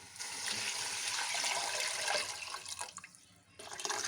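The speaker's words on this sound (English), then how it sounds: "2-liter water." Two liters of water poured into a cooking pot holding meat, onion and salt for Kabuli pulao, a steady close splashing rush that thins and briefly pauses near the end before resuming.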